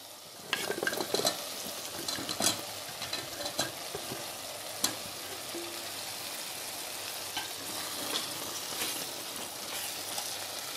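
Potatoes and cabbage sizzle softly in a hot pan while a spoon stirs them, producing a steady frying hiss broken by irregular scrapes and clacks, fairly quiet and close, with no talking.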